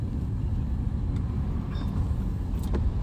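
Steady low rumble of road traffic from inside a car, continuous and fairly loud, with a few faint higher squeaks or brake sounds passing in the distance.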